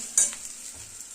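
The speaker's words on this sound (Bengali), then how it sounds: "তা তেল তেল করে ভাজছি ভালো করে ভাজতে হবে" Grated taro frying in oil in a pan: a sharp utensil clink as it is stirred, then a soft, steady sizzle with a few faint scraping touches, close by and with no voices.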